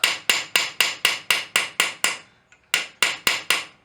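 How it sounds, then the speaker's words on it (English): Light blacksmith hammer blows ring on metal while fullering a rosette rivet, in a steady, even rhythm, about a dozen strikes with one brief pause, close and bright. "You just want these little hammer blows to fuller out that material and push it where you want it to go."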